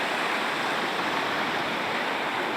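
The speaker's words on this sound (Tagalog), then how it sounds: "Talagang grabe lakas ng agos na yan, no?" Strong current of the Mayhay River rushing past as a steady, loud broadband roar of churning water, continuous and unbroken with no voices.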